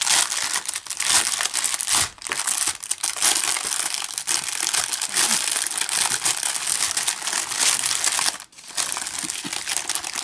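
Paper or plastic crinkled and crumpled by hand while making a fox-themed craft piece, a dense continuous rustling held close, with two brief pauses.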